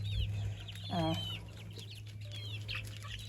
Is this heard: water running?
no